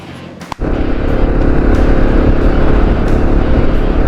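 Steady motorcycle engine and road-wind roar from a rider wearing a Shoei Hornet X2 helmet, starting after a brief bump and then continuing loud, even and close throughout.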